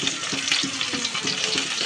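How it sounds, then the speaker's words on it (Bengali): Fish frying in a pan, a steady hiss of hot oil with soft, regular bubbling pops running throughout. "মাছগুলো এপিট ওপিট খুব ভালোভাবে ফ্রাই করে নেব।"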